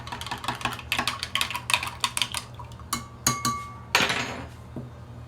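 A utensil stirs a blueberry wine mixture, knocking and clinking against the container in quick irregular bursts of sharp taps, close and fairly loud.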